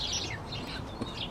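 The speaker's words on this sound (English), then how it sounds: "you can just hear the calls of the sparrows" Sparrows chirp and twitter at dusk in late winter, a few light, fairly faint calls over a low steady background hum.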